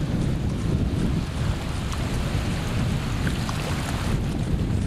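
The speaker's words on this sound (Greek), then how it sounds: "Η θάλασσα εδώ είναι πεντακάθαρη." Sea waves wash against the coast at Karystos as strong wind buffets the microphone, a loud, continuous rushing roar with no voices.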